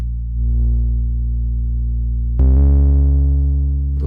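A sustained, buzzy low distorted synth bass note with rich harmonics drones, then shifts to a louder, grittier note partway through, in a liquid drum and bass bassline.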